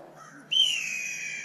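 A blue jay imitating a red-tailed hawk call gives a single clear, high descending scream that starts abruptly and holds for about a second, heard alone outdoors at moderate distance.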